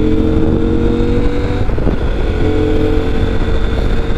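A CFMOTO 800MT motorcycle with side cases cruises at highway speed, its engine a steady, loud drone buried in constant rushing wind buffeting the microphone, with no change in pace throughout.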